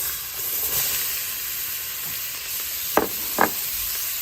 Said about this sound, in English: So now we're going to be putting in our onions.